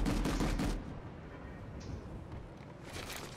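Rapid bursts of turret gunfire from a first-person shooter video game open loud and close, then fade into a rumbling background before another burst builds near the end.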